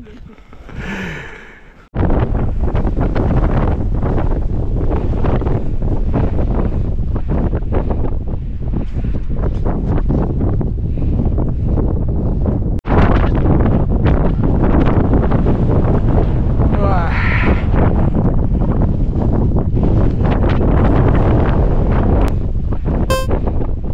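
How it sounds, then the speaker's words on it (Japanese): Strong gusts of wind roar across a winter mountain ridge near the Minenochaya hut on Mount Nasu, loud and sustained with buffeting surges for almost the whole time after a brief quieter start. "とにかく突風がすごい爆風なんでおります。"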